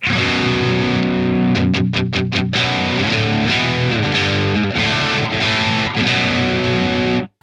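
Electric guitar through a Jeff Loomis Devil's Triad overdrive pedal with boost, reverb and delay on, loud and gritty, with a quick burst of rapid strums followed by sustained distorted chords.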